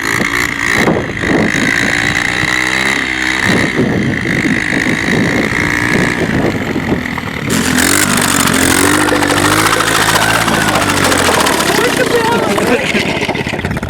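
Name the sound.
motorized snow scooter engine running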